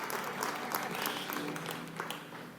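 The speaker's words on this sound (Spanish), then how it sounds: "Y yo, gracias Dieguito, yo ya iba a aplaudir." Applause from a congregation at a motivational church talk, a steady patter of many hands clapping at moderate distance, tapering slightly toward the end.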